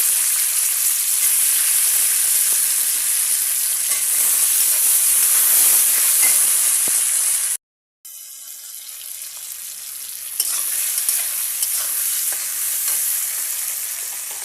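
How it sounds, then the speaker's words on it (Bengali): Tomatoes tossed into a hot pan with fried eggs and browned onion, a loud dense sizzle with stirring scrapes, cut off briefly by a gap of silence, then frying again more quietly. "টমেটোগুলো দিয়ে দিচ্ছি।"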